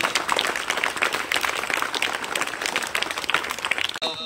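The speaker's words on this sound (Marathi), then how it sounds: "सर्वांनी टाळ्या वाजवून हार्दिक हार्दिक स्वागत करायचं आहे" Applause from a school assembly crowd welcoming guests and student performers, dense steady clapping sustained throughout and fairly loud, with no voices standing out.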